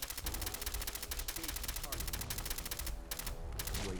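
Rapid automatic gunfire in the video game Fallout 4, fast dense bursts repeating steadily and fairly quiet, with other game sounds beneath.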